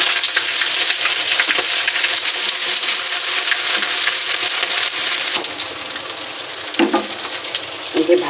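Ginger, green chilli, cardamom, cinnamon and cloves tempering in hot oil for vegetarian fried rice: a loud, continuous crackling sizzle close by, with a few brief utensil clinks near the end.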